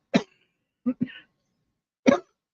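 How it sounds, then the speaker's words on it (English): A few short, sharp coughs spaced out over a couple of seconds, close and fairly loud, with brief throaty sounds in between. "I don't want to cough so much I can't stop."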